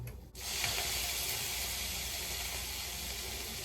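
Two tablespoons of water splash into a hot cooking pan and erupt into a loud, steady sizzle and hiss that holds at an even level for several seconds, with no talking over it.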